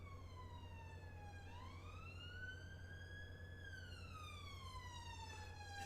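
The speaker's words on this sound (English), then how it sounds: "It's a police car." A police car siren from the city-building game Cities: Skylines II wails with a rising and falling tone over a steady low hum, loud and continuous with no talking.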